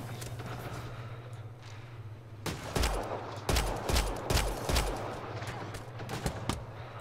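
Gunfire in the Mass Effect video game: a burst of several sharp shots, then further irregular single shots, loud and close over a steady low background hum.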